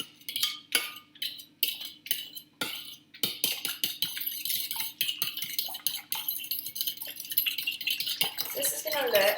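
A mixture is whisked in a too-small bowl, giving rapid rhythmic clinking and scraping of the whisk against the bowl that speeds into a continuous close clatter.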